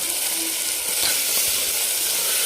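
Ginger, garlic and coriander paste sizzles in a hot pan, steady and close, a continuous bright hiss with faint crackles throughout and no voices.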